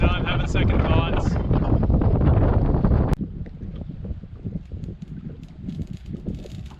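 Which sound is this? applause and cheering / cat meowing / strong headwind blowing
strong headwind blowing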